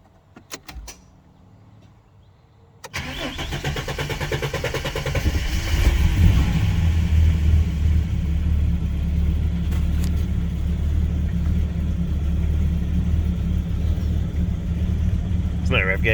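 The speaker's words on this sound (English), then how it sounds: "let's start it up and see how it sounds on a cold start." A Ford EB Falcon cranks briefly and catches on a cold start, then settles into a loud, steady, rumbling idle that builds slightly and holds, recorded up close with a voice speaking over it.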